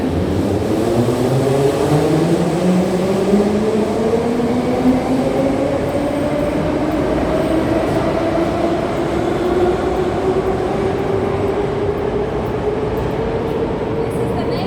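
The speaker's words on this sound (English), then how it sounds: "This is one of the old trains, right?" An old Moscow Metro train running through a tunnel, a loud, continuous rumble and roar with a tone that slowly climbs as it speeds up, steady for the whole stretch.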